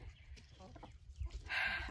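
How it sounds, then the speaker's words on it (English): Faint clucking from chickens nearby in a chicken run, a few soft calls over quiet rustling background noise, ending in a brief brighter squawk. "we're out in the chicken run giving the chickens in here some greens"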